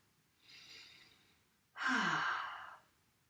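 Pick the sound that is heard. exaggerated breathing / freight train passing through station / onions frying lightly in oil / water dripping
exaggerated breathing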